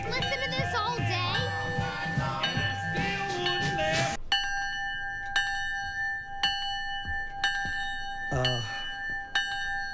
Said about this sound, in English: About this bell?